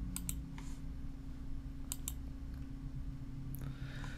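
Sharp computer mouse clicks in small pairs and singles, close and crisp over a faint steady hum, while an image placeholder is being selected on screen.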